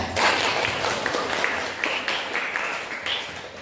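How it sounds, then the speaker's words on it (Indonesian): Students in a university economics classroom clap for group representatives after their presentation, a modest, fairly steady round of applause that gradually thins out. "Bisa kita beri tepuk tangan ya"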